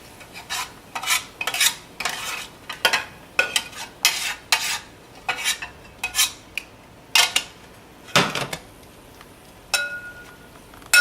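Caramelized onions scraped from a saute pan with a metal utensil, a series of close clanking and scraping knocks in an irregular rhythm, faint sizzle beneath, no talk.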